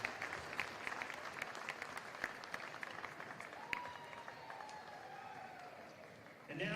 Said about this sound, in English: Let's give our senior cheerleaders and their parents a nice round of applause